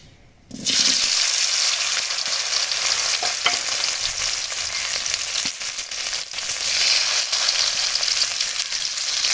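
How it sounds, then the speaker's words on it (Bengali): Boiled potatoes fry in hot oil, starting with a sudden burst of loud, steady sizzling that runs on with faint stirring scrapes, close by and with no talk. "এখন প্রথমে আলুগুলো ভেজে নেব।"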